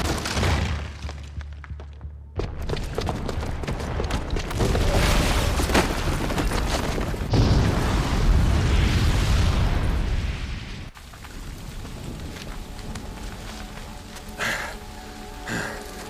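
A booby-trapped bomb goes off in Horizon Zero Dawn Remastered during the Siege of Sunfall. A sudden loud blast breaks a brief quiet and swells into a long roaring rumble, then fades into quieter battle ambience.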